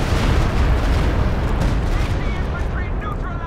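Rocket artillery from a Walking Stuka in Company of Heroes 2 pounds the battlefield, a continuous roar of overlapping booming explosions that thins out toward the end, with a voice talking over it.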